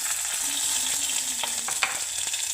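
Dried red chilies and green chilies frying in hot oil for a spicy Rayalaseema-style dish, a steady close sizzle with a few stirring clinks, no talking.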